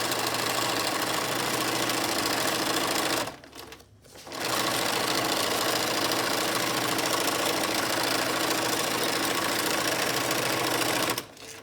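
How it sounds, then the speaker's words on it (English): A sewing machine stitches a pillow seam with a steady, fast mechanical whirr, running continuously, pausing briefly near the middle, then running on before stopping at the end. "Drop your foot back down and sew all the way down the side."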